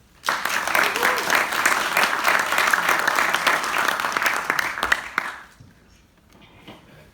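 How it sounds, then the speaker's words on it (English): Sustained audience applause at a religious freedom forum held at Macquarie University, a dense burst of many hands clapping for about five seconds before trailing off, with faint talk following. "Let's give him a round of applause."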